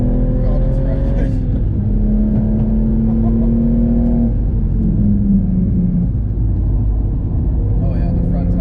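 A 500hp BMW M135i accelerates hard on a race track, the engine note climbing through gears with a deep, loud rumble heard from inside the car, while someone speaks over it.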